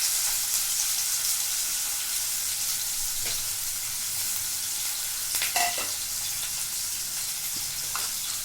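Chopped onions fry over high flame in hot oil for a chikkudukaya curry, making a steady hiss and sizzle with a few brief scraping clinks near the middle, close and constant.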